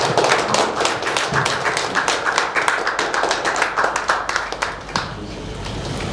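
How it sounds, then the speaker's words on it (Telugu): An audience at a Doctor's Day health talk stands and claps for doctors, dense continuous applause with many close hand claps throughout, steady and lively. "వైద్యులందరికీ మనం ఒకసారి లేచి నిలబడి చప్పట్లు కొట్టాలని కోరుకుంటున్నాను"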